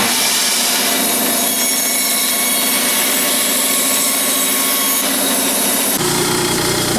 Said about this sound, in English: Obviously not the right blade for these, but I'm just going to kind of rough cut them